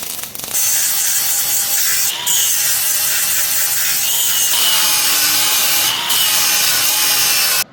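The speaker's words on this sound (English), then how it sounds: "Now we're gonna weld up the top, fill that crack in." A welder fills a crack on the track reaction arm of a Challenger 2 tank. A loud, continuous crackling hiss runs for about seven seconds, then cuts off abruptly.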